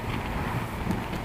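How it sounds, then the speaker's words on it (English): Wind gusting outdoors, buffeting the microphone with a steady low roar and rumble that never lets up, with no voices over it. "Nice and windy."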